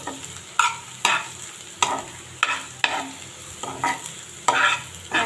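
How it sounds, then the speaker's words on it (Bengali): Onions frying in a pan, a soft sizzle beneath repeated loud stirring scrapes that come roughly once a second, each a sharp burst of spatter and clatter. "আমার পেঁয়াজটা ভালোভাবে ভাজা হয়ে গেছে"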